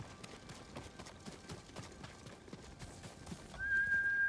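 Horse hooves clip-clop steadily through a Ghost of Tsushima game scene, joined by whinnies and a louder snort or neigh near the end, with faint ambient game sound behind.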